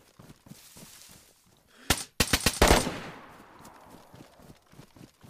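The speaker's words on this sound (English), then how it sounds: "Somebody just shot." Several gunshots ring out in the video game DayZ on the Livonia map, a tight burst of sharp cracks followed by a few more, each fading into a short echoing tail.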